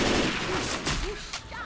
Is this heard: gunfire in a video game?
yes